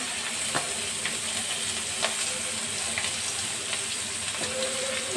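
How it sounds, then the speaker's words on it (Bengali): Onion and panch phoron fry in a pan with a continuous, fairly loud sizzle, punctuated by a few light taps of a stirring spoon, no speech. "পাঁচ ফোড়ন দিলাম পেঁয়াজ দিলাম"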